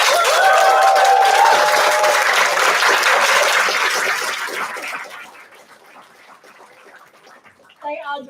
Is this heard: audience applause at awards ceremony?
yes